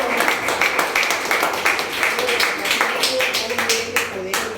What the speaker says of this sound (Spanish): Dense un aplauso de eso, muchachos.